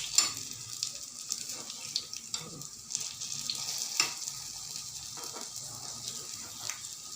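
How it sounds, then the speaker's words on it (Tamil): Carrot and banana paniyaram frying in a pan, a steady hissing sizzle broken by intermittent clinks and taps. "கேரட் வாழைப்பழம் பனியாரம் வெந்துட்டுருக்கு"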